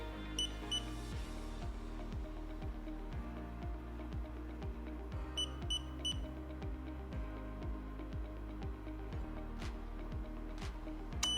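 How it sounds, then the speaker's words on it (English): A Loop device running its timer cycle, with short, high electronic beeps about five seconds apart over a steady low hum. "You can see the bar, the timer bar across the bottom begin to proceed, beeping every 5 seconds."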